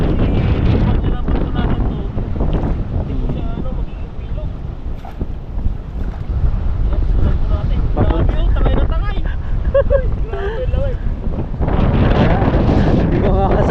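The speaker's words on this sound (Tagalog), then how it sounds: "Hangin na yan." Strong wind buffets the microphone beside a riverside in Taiwan, with a heavy low roar that gusts and surges throughout, while voices talk underneath.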